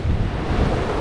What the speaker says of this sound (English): the waves went a little down, but then they came up again. So a little more wind now.